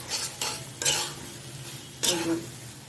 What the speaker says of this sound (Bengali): এই কচুটা ভাজা ভাজা করতে গেলে আমার এরকম তেলে কালো কড়ারই দরকার